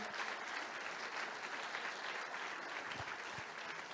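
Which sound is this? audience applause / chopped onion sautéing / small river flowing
audience applause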